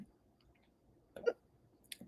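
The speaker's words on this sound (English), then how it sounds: "I just can't stop burping, hiccuping" A single short hiccup, soft and close, over a quiet background with faint clicks around it.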